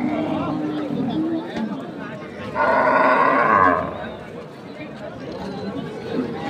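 Cattle lowing at a busy rural cattle market in Bangladesh where Sahiwal cows and heifers are being sold, one long moo rising clearly above steady crowd chatter and bargaining voices nearby.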